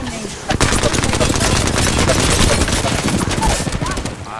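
Rapid gunfire in a video game: dense overlapping bursts of shots crackle almost continuously for about four seconds, loud and close, with voices faintly underneath.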